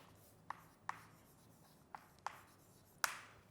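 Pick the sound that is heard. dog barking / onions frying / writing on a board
writing on a board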